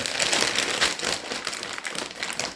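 Plastic vacuum-sealer bag crinkling and crumpling continuously as it is handled close by while being prepared to hold pork loin for sous-vide cooking, with no talk over it.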